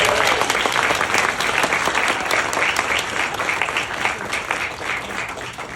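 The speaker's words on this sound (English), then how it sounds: "Please give them a round of applause." Sustained applause from a commencement ceremony audience at Brown University, dense and steady clapping from a large crowd throughout, tapering slightly toward the end.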